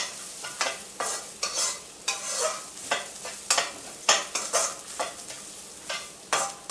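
Grated coconut stirred in a pan for Kerala-style koottucurry, giving a steady run of close scraping, rustling stir strokes over a light sizzle, with no voices.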